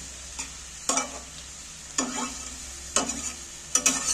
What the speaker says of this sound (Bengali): আমি এইটা তেলের মধ্যে নাড়াচাড়া করে আমি এটা চাপা দিয়ে দিচ্ছি যাতে আস্তে করে হয়